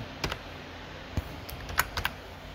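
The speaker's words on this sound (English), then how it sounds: "I think I need to type the configuration code here" Typing on a computer keyboard: a few sparse, soft key clicks spread over a couple of seconds at close range, with no talk.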